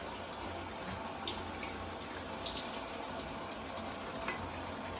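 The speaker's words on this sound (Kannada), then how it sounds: "ನಾನು ಸ್ವಲ್ಪ ನೀರು ಹಾಕ್ತಿದ್ದೀನಿ" About half a small glass of water is poured into tamarind gojju, a soft, steady trickle with a faint washing sound, quiet and close throughout.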